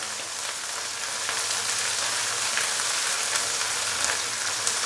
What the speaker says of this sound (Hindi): अदरक और लहसुन के पेस्ट को हल्का सा फ्राई कर लेंगे